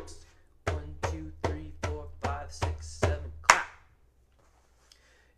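A classroom drum beats seven evenly spaced strikes, then a final sharper hit, in the chocolate-milk-and-potato-chips rhythm. The hits are clear and close, followed by quiet.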